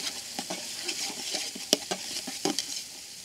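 Fried rice is stir-fried at a roadside fast food stall, with a steady sizzle broken by irregular sharp clanks and scrapes of a spatula against the pan.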